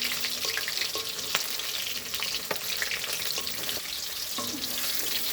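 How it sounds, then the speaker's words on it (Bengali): Pakoras fry in hot oil until golden red, a continuous bright crackling sizzle with occasional clinks of a utensil stirring in the pan, close and moderately loud with no voices. "লাল লাল করে ভাজবো।"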